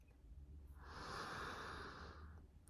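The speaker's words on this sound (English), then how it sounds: "And again, breathe." One slow, deep breath, drawn in and released audibly close to the microphone, a soft breathy hiss swelling and fading without speech.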